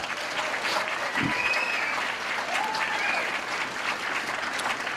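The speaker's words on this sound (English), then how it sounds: "So let's give them one more round of applause." A live show audience gives steady, sustained applause with scattered whistles and cheers, filling the room at an even level for the whole stretch.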